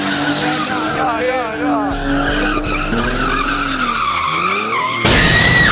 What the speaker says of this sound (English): The Mustang doing a terrible job at spinning